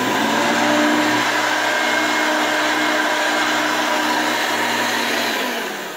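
A Hoover Elite 350 upright vacuum cleaner runs steadily on carpet, a broad constant whirring drone with a steady motor hum, close and loud throughout and easing off slightly at the very end.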